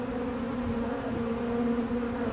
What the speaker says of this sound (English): I grabbed a handful of bees that were clustered in there